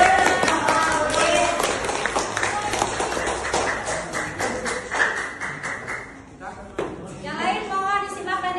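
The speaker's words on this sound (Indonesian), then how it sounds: "Yang lain berikan tepuk tangan." Students in a classroom clap for a group coming forward, a burst of scattered hand claps and taps that fades, with voices talking over and after it.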